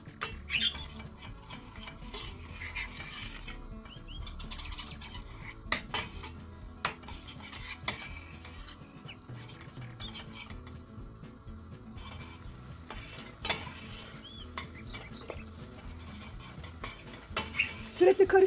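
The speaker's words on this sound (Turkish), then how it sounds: "Sürekli karıştırıyorum." Flour being toasted in a pot while a spoon stirs it constantly, giving soft scraping and clinking strokes against the metal with faint sizzling, close and fairly quiet, with no one talking.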